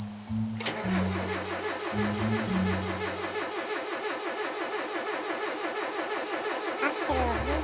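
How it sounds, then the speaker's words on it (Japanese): A Mitsubishi Lancer EX Turbo starter cranks steadily and loud, the engine turning over rhythmically without catching for several seconds, after brief opening beeps and chimes, with a final stop at the end. "セルは元気に回っているのに 配りかけたりするから"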